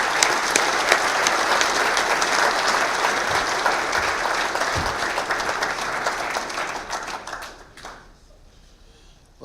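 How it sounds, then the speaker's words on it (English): Loud, dense round of applause from attendees at a golf association annual meeting honoring an award recipient, holding steady for several seconds before fading out near the end. "just a big round of applause for your"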